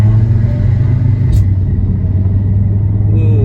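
A manual-gear car is being driven, heard from inside as a steady, loud low engine and road rumble that continues without a break.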